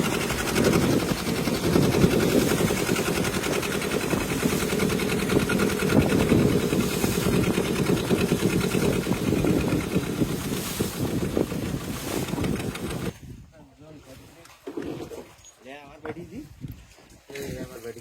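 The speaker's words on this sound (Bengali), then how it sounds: "এখন আমরা ট্রলার চালিয়ে সামনের দিকে" A fishing trawler's engine drones steadily at sea under heavy wind buffeting, close and loud for most of the stretch, then dropping away abruptly, with voices and quieter sounds toward the end.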